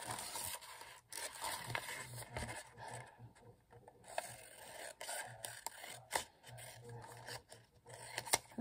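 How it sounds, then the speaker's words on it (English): Scissors snip through paper while trimming a sheet for a small envelope folio, a quiet, close series of irregular scraping cuts with short pauses between strokes and no talking. "Now I'm just gonna take my scissors"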